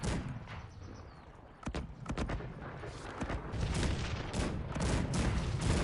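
Cannon volley in the real-time strategy game Cossacks 3: repeated booming blasts and crackling gunfire over a dense, noisy battle din that grows louder toward the end.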